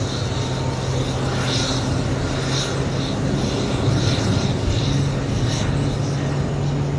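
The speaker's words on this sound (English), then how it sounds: "ITA taking off 43 minutes late" An ITA airliner takes off at JFK airport on a hot summer day, its jet engines a loud, sustained roar with a low droning hum that holds steady throughout.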